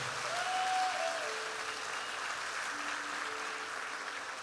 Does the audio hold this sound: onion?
no